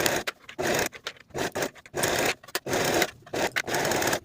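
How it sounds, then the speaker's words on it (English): A sewing machine stitching the underarm and side seams of a raglan-sleeve top from remnant fabric, running in steady bursts with brief pauses between, close and loud throughout. "Now I'll sew both of those underarm and side seams with a 1/4 inch seam allowance."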